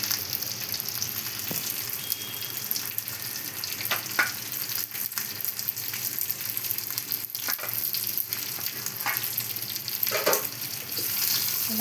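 Eggplant curry sautéing in oil in a pan, a steady close sizzle and crackle with occasional scraping stirs, carrying on evenly without any speech.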